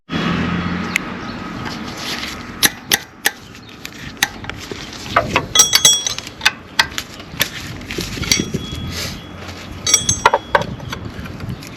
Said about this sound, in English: So I just use a ratchet wrench to get in there to get the bottom one loose.